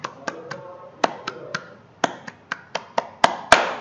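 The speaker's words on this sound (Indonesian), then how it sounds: "sekarang bersama-sama tepuk pramuka." Children in a primary school class perform the rhythmic Indonesian scout clap, a patterned series of sharp, close hand claps with short pauses, ending in two louder final claps.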